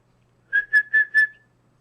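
A person gives four short, even whistles in quick succession to get a pet rabbit's attention. The whistles are clear and close, set against a quiet room with a faint hum.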